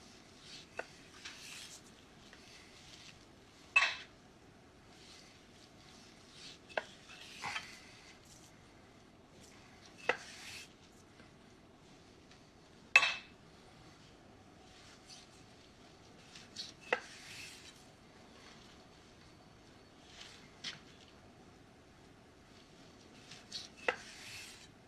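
A knife slices through a salmon portion on a cutting board for crispy-skin salmon, giving about seven sharp, isolated cutting strokes spaced a few seconds apart against a quiet kitchen background, with no talking.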